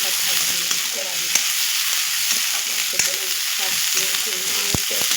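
Garlic, onion, green and dried chillies and ginger fry in a wok with a constant close sizzle, broken by occasional utensil scrapes and knocks.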